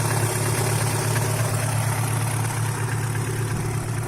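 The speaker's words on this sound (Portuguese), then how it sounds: "Tá praticamente aí quase o barulho do motor aí." A car engine idles steadily after an engine-cleaning treatment, a constant low hum with faint residual knocking, close and unbroken with no one speaking.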